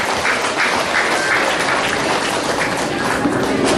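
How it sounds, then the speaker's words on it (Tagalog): Dense crowd applause at a parish fiesta celebration held at night, steady and continuous clapping from a large audience, fairly loud throughout. "palakpak naman po yan."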